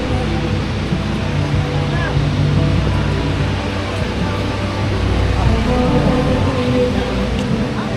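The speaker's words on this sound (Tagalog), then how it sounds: "Ayun yung pinaka falls." A waterfall at a forest campsite makes a steady, loud rushing roar. The sound stays continuous and unbroken throughout, with some wind noise blended in.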